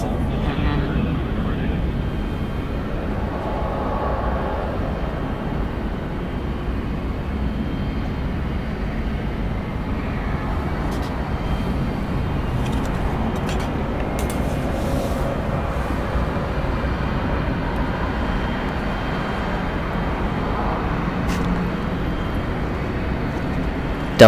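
A 24-year-old Delta Airbus A320 jet takes off from Atlanta Hartsfield-Jackson, a steady broad distant engine roar sustained throughout, with faint air traffic control radio chatter over it.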